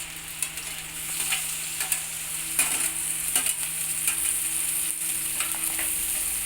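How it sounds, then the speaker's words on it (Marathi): Curry leaves and green chilies hit hot oil in a pan for a potato bhaji, crackling and sizzling steadily up close while a utensil stirs with small scraping bursts. "आता आपण कढीपत्ता टाकून घेऊया आणि मिरची पण टाकून द्यायची."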